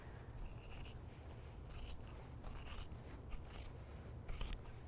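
Scissors trim a fabric seam allowance on a sewing project, giving soft, quiet snipping and rasping cuts in quick succession close by, with no voices.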